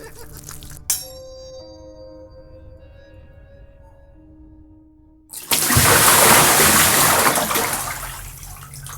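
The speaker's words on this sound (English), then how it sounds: "Cold water splashing on his face revived him" Cold water is thrown onto a man's face in a dramatized horror tale. A soft tonal ring fades, then a sudden loud splash bursts in and washes on for several seconds.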